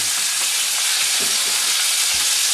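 Chicken pieces, breast and thigh, laid skin side down in a hot frying pan, giving a loud, steady, hissing sizzle with faint pops and crackles throughout, no voice over it.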